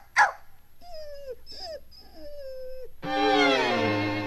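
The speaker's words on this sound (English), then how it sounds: "she just sat in front of her doghouse crying" A sad dog in the animated Lady and the Tramp whimpers and cries, starting with a short yelp, then several high falling whines and a longer drawn-out howling cry, close and clear.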